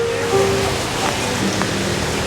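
A steady wash of heavy rain hisses without pause, close and even, with no other sounds standing out.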